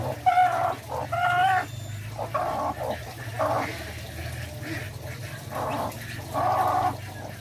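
Two chickens cluck softly in short, repeated calls close by, over a low steady hum.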